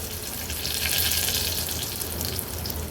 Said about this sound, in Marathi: राई जिरं थोडं तडतडलं का कढीपत्त्याची पानं घालणार आहे।